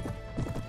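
Horse hooves clip-clop with a whinny from a mount in the Game of Thrones mod of Mount & Blade: Warband, steady galloping thuds close and moderately loud over battle ambience.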